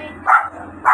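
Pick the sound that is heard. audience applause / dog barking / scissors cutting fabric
dog barking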